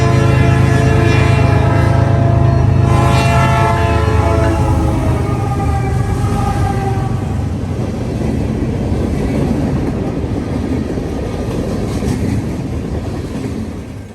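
A Canadian National freight train, led by a GE locomotive heading west through London, rolls past loudly with its horn blaring in the first few seconds, then a steady rumble of cars continues to the end.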